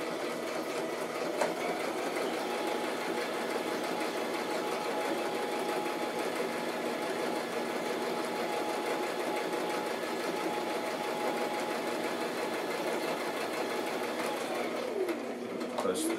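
Steady, continuous whir of a sewing machine stitching a handmade handbag, close and running nearly unbroken, stopping briefly near the end, with a voice talking over it.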